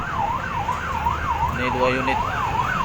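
A Sabang city fire truck heading to a fire sounds its wailing siren, which rises and falls steadily close by as a person speaks briefly over it.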